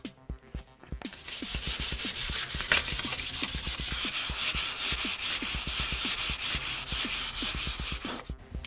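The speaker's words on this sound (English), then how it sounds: "When the door is dry, you can gently sand it with a fine sandpaper or sponge." Steady, close sanding of an interior timber door with fine sandpaper or a sanding sponge: a continuous rasping rub running about seven seconds after a brief start, with no talk.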